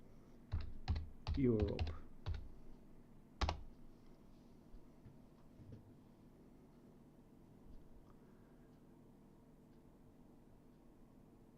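A computer keyboard clatters in a quick burst of key presses, typing a command into the Euro Truck Simulator 2 console, followed by one sharper click and then near silence, with a single spoken word in between.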